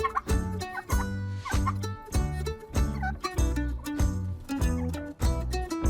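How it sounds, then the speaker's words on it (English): A turkey gobbles over steady, loud background music with a beat, its calls blending into the upbeat track. "A turkey is a big bird."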